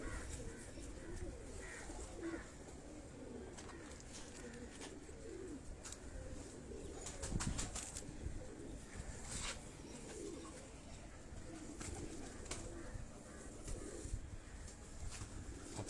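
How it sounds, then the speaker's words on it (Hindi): Pigeons coo in low repeated rolling calls at moderate distance, quiet and steady, with faint background clatter and no talking. "अब ये कबूतर भी आप देखें"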